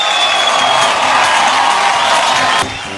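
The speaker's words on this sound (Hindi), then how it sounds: "एक बार हमारे जीके साहब के लिए जोरदार तालियां हो जाए।" A large audience at a Star Guild Awards ceremony claps and cheers loudly for a congratulated guest, a dense continuous roar of applause and whoops that drops off abruptly near the end.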